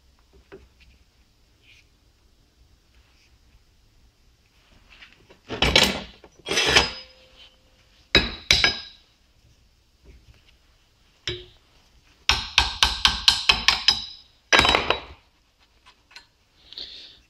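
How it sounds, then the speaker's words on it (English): A seized, rusty Vauxhall hand brake lever being clamped in a vise: sharp metallic clanks and ratcheting clicks in separate close bursts, with quiet pauses between them and no speech. "Let me put in the vise here."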